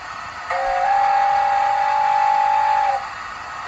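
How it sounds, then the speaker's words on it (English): A Hornby P2 model steam locomotive sounds its whistle: one long, steady, bright tone held for about two and a half seconds, then it cuts off over a quiet background. "I think she deserves another whistle for that."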